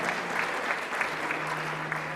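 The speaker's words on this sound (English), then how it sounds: "Let's give him another round of applause for that." Applause from a session audience with George The Poet, a steady, even wash of many hands clapping at moderate volume, continuous for a couple of seconds, with a low steady hum beneath.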